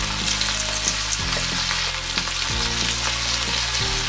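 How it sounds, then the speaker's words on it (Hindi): Cauliflower pieces deep-frying in hot oil in a kadhai over a medium flame, giving a loud, steady, close sizzle and bubbling throughout, with no voices. "तेल को मैंने पहले से बैठा दिया था गर्म होने के लिए कढ़ाई में। अब एक एक करके मैं तलूँगी।"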